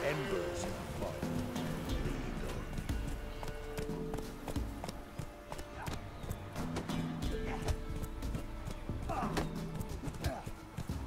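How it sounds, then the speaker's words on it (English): Horse hooves clip-clopping at a run in The Witcher 3, a steady patter of hoofbeats under ongoing game speech and dialogue, with a brief neigh possible amid the busy mix. "Whoa there, Roach"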